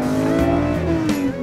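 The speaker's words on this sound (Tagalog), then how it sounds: "Habang mas bumibilis ang takbo ng sasakyan ay mas lalakas rin ang tunog ng makina." The engine of a manual transmission car revs up steadily as it accelerates, a loud, close, continuous drone rising in pitch with no talking over it.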